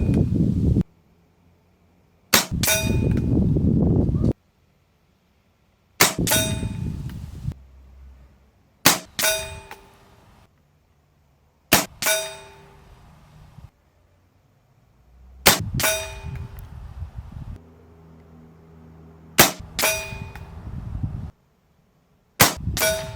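A Diana Storm Rider PCP air rifle fires Barracuda Match pellets at a target, seven sharp cracks spaced a few seconds apart, each followed by a bright metallic clang and short ringing decay.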